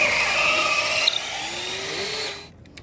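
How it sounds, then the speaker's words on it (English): A power drill whines steadily at high speed for a couple of seconds while drilling through a wooden deck post, then winds down and stops, leaving near silence. "take a drill and then add that mark, run it through the hole"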